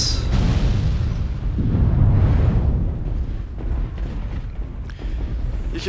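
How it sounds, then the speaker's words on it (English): Rockets explode in the MechWarrior Online mech combat game: deep, rumbling blasts swell and fade in a thick low-heavy roar, with a few sharper bursts toward the end. "And here we see an enemy. Some of our rockets."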